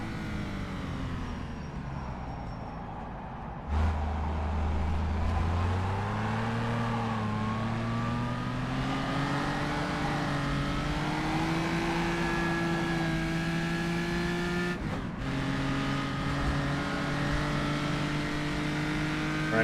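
A historic race car's engine at the Rouen track, heard from onboard, droning steadily and then rising as it accelerates through the gears, with a brief lift before the revs climb again.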